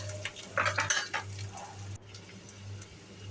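A tempering of dried red chillies, curry leaves and thinly sliced onions fries in a pan, with a soft sizzle under clattering spoon-against-pan stirring and a steady low hum.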